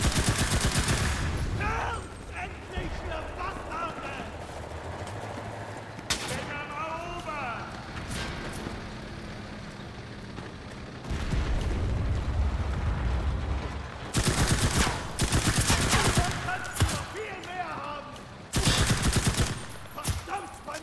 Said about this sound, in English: Taking lots of fire.